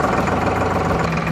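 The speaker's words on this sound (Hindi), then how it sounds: "उसके बाद आप ट्रैक्टर को चालू कीजिए।" Farmtrac tractor with a double clutch and IPTO, its diesel engine idling with a steady, loud, close chugging rumble and vibration and no pause.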